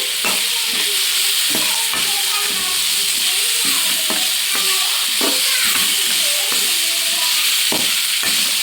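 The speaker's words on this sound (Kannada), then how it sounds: "ಇದರಲ್ಲೇ ಫ್ರೈ ಮಾಡ್ಕೊತಾ ಇದ್ದೀನಿ" Loud, steady sizzling of food frying with turmeric in a hot pan for sprouts sambar, with scattered clinks and scraping of a utensil stirring.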